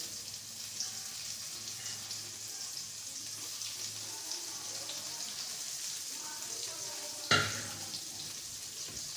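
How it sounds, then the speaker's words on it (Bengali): Onion frying in oil in a pan, a steady soft sizzle running throughout at moderate distance, with one brief louder clatter near the end. "এবার পেঁয়াজটা দিয়ে দিচ্ছি।"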